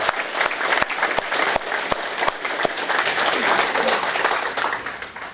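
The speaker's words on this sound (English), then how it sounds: "I want to give them a round of applause." Audience applause for hospital staff at a hip and knee joint replacement presentation, a dense, steady wash of many hands clapping with a few sharp close claps standing out, loud and sustained for several seconds.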